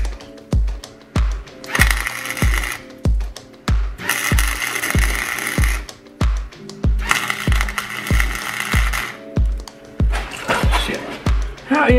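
A $90 Harbor Freight welder joins a bung to an oil pan in several loud, crackling arc bursts of a second or two each, set against a regular thumping beat that runs throughout.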